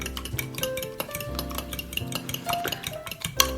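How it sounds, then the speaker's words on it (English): Milk and eggs being whisked together in a bowl for a quiche, giving quick, rhythmic clinks and scrapes of the utensil against the bowl, close and moderately loud, with no talking. "We'll just pop in 2 eggs and then just give that a bit of a mix up there"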